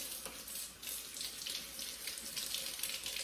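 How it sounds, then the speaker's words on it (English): A steady hiss of water runs from a kitchen tap while hands are scrubbed beneath it before making dumplings, an even, fairly quiet stream without pauses and with no talk. "I'm just gonna wash my hands."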